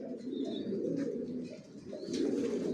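Racing pigeons in a loft, grizzle racer chicks among them, give soft continuous cooing with faint chirps and wing rustles, steady and close throughout.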